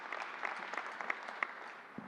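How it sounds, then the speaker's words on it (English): Faint, brief round of audience applause for vaccination site staff at a New York State government press event, a soft patter of clapping from a small crowd. "Let's give them a round of applause and thank them for everything they're doing."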